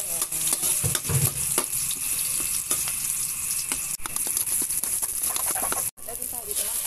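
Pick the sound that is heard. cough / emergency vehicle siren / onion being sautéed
onion being sautéed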